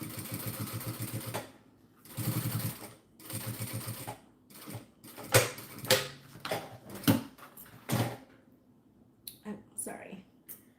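A sewing machine topstitches along the zipper of a fabric zipper pouch in several separate runs of rapid needle chatter, close, with pauses and occasional talking between the bursts.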